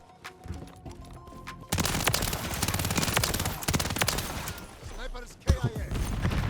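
Rapid automatic gunfire from the Call of Duty MW3 game erupts after a quieter opening, a loud sustained burst of shots with brief gaps and a sharp crack near the end, mixed with game sounds.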